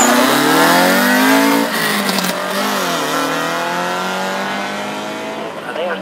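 A BMW sprint car drives past at an Aintree motor sprint, its engine loud and revving with rising and falling pitch as it passes, while a commentator talks over it.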